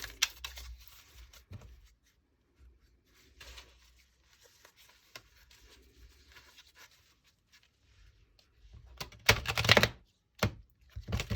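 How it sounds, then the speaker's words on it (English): Tarot cards are shuffled by hand in irregular bursts of riffling and tapping, mostly soft with a louder flurry near the end. "That was the worst shuffle I have ever done in my life."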